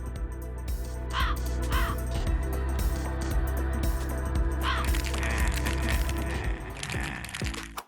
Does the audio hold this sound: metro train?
no